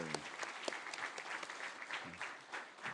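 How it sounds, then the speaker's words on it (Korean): Congregation applauding at a New Year thanksgiving church service in Pangyo, South Korea, soft, fairly distant clapping with scattered sharper claps and a little talk mixed in. "우리 박수로 한번 우리 자녀들을 축복하고"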